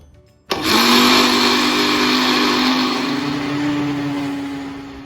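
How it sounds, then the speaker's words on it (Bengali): A mixer grinder blending spinach whirs loudly after a brief quiet start, a steady high-pitched motor blending continuously for several seconds. "এবার আমি এই স্পিনাচটাকে ভালো করে ব্লেন্ড করে নেব"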